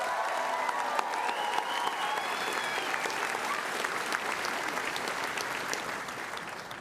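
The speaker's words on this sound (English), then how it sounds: "Can I get one more huge round of applause for all of our graduates here today?" College commencement crowd applauding graduates in a large hall, a full wash of sustained clapping with faint cheers and whistles, tapering slightly at the end.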